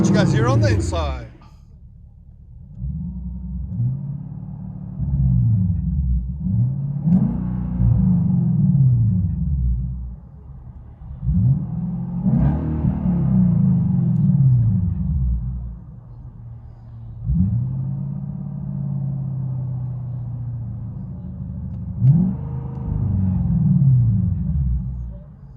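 From inside a 2015 Hyundai Genesis, its 5.0L V8 engine with resonator delete revs up and settles back about five times, low rumbling swells with quiet idling between.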